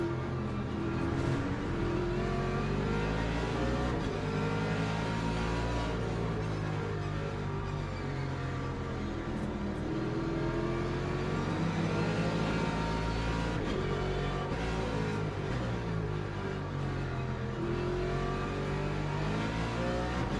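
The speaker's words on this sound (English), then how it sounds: "Here comes the hypercars." Hypercars race in Le Mans Ultimate, engines revving and shifting through rising and falling pitch sweeps, with loud continuous engine noise and no talk.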